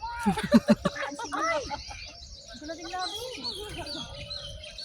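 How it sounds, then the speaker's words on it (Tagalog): Pigeons perched on a roof at a farm give a few chirpy calls, loudest at the start and then scattered and fainter, with people talking nearby. "Yan mo yung kalapati sa ibabaw ng bubong."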